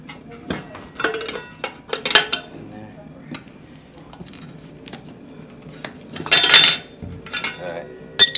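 Steel tire spoons working a motorcycle tube tire's top bead off the rim in small bites, sharp metallic clinks and scrapes scattered irregularly and close by, with quiet stretches between.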